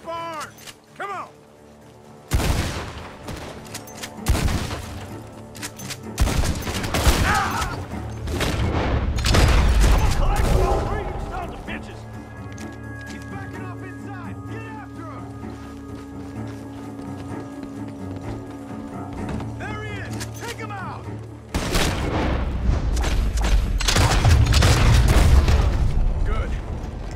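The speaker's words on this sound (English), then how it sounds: "Gunshots are coming from that barn!" Gunfire in the Red Dead Redemption 2 video game, loud sharp bursts in clusters near the start and again at the end, over galloping hooves and a continuous low rumble.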